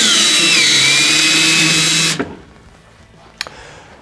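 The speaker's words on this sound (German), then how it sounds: "Anschließend Schraube eindrehen." A power drill drives a screw into a Fischer DuoLine two-component wall anchor, a loud steady whine for about two seconds that stops abruptly, followed by a quieter gap and a brief click.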